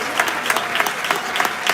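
Students applaud at an Olympic-style boxing event in Sarcedo, a steady patter of many hands clapping with rhythmic swells, fairly close and filling the whole stretch without voices.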